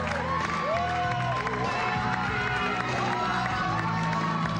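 Studio audience at the reality singing competition La Academia 3 applauds and cheers as a contestant is expelled, a dense, steady wash of clapping, whistles and shouts held at a constant level for several seconds.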